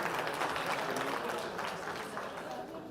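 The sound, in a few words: conference audience applause for Mr. Brian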